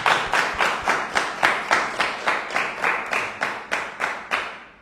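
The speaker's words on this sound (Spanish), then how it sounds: "les damos un fuerte aplauso para agradecerles" An audience at a church book presentation on synodality claps together in a steady rhythmic unison, a fairly loud, regular run of claps sustained throughout without voices.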